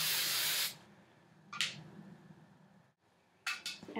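Hairspray hisses in one long close burst, then a quick spritz, and after a pause two more short sprays in a row.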